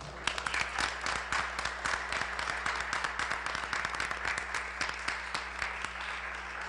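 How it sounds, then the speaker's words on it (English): Audience applause at a Medford school committee meeting, a sustained crackle of many hands clapping at moderate volume over a steady low hum, with no talking. "Round of applause for that one."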